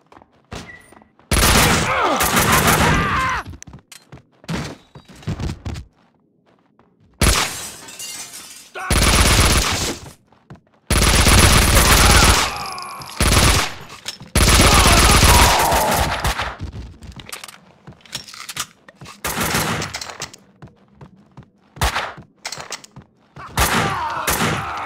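Loud bursts of automatic gunfire and single shots from the Max Payne 2 video game come in several separate volleys, each broken by short silences, with glass-like shattering and thuds mixed in.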